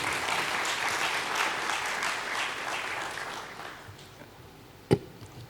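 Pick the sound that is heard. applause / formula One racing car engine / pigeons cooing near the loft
applause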